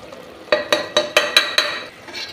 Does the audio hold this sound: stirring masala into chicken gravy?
yes